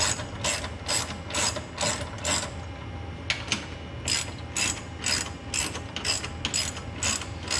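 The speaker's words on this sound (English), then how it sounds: "So you kind of tighten down a little bit on each one." Ratchet tightening sway bar bolts on a 2017 Dodge Challenger R/T during an Eibach front sway bar install: close, rapid clicking bursts repeating in a steady rhythm, with no talk.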